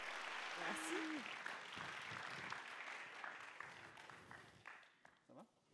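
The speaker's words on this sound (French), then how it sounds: "Qu'on l'applaudisse très fort." An audience at a film festival closing ceremony applauds as Léa comes onstage; the clapping is moderately loud and thins toward the end, with voices talking over it.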